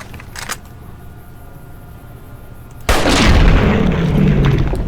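Gunfire in Fallout: New Vegas: one sharp crack early on, then a loud, sustained booming blast that lingers with a rumbling tail.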